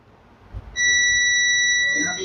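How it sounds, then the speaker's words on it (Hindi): A multimeter gives a continuity beep while probing a mobile phone circuit during ear speaker fault finding. A soft murmur comes first, then one loud, sustained electronic tone holds for about a second and a half. "ये बीप क्यों आया?"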